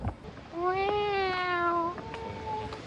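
A person imitates a cat with one long, clear meow that falls in pitch, followed by a shorter second meow, close and fairly loud in a quiet room.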